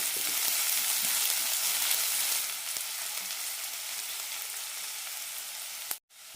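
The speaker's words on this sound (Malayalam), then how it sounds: "ഒരു സവാള നീളത്തിലരിഞ്ഞതാണ് ഇട്ട് കൊടുക്കുന്നത് സവാളയുടെ കളർ മാറേണ്ട ആവശ്യമില്ല ചെറുതായൊന്ന് വഴന്ന് കിട്ടിയാൽ മതി" Long-sliced onion sautéing in a pan for a vegetable curry, a loud, continuous bright sizzle close by that eases slightly partway through and cuts off abruptly near the end.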